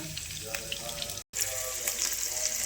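Garlic and green chili fry in oil in a pan for besan bhurji, a steady crackling sizzle close by, cut by a brief silent gap midway before resuming.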